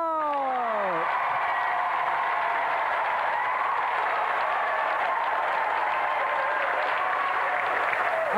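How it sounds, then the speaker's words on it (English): Studio audience applauding a special guest, racing driver Johnny Herbert, on the GamesMaster game show: steady, dense clapping sustained for the whole stretch, with a brief descending electronic sweep at the start. "Another round of applause for our special guest, Johnny Herbert!"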